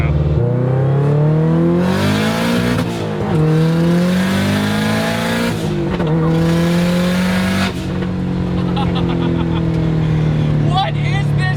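A Mazda Miata fitted with a swapped-in Subaru WRX engine drives hard, its loud engine droning and rising and falling through several pulls, up close and continuous, with talk from the occupants over it.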